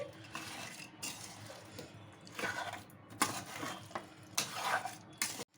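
Homemade chicken pickle is mixed by hand in a pot with a utensil, producing intermittent scraping and clinking stirs in uneven bursts, close and fairly quiet.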